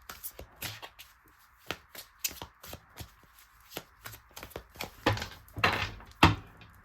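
Tarot cards shuffled and cut by hand, with crisp riffling flicks and soft taps in an uneven rhythm, louder bursts of rapid shuffling near the end, up close.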